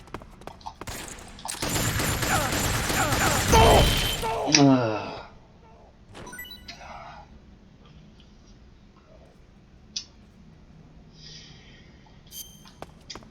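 Video-game gunfire in Metal Gear Online: a dense, loud burst of rapid shots lasting a few seconds near the start, then fading into quieter game sounds with someone talking over parts of it.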